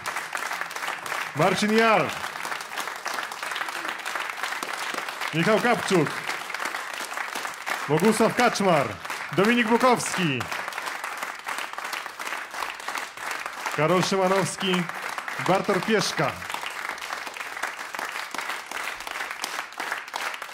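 A concert audience applauds the musicians of a jazz septet with continuous, medium-distance clapping throughout, while an announcer reads out names over it.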